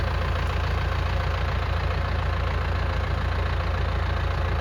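Tractor-style lawn mower engine running at a steady low idle, a continuous rumbling drone that holds an even level throughout.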